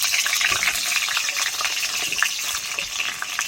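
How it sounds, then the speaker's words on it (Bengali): Potatoes frying in hot mustard oil in a wok, a dense, steady crackling sizzle that stays loud and even throughout with no voices. "প্রথমে আমি আলুটিকে ভেজে নেব।"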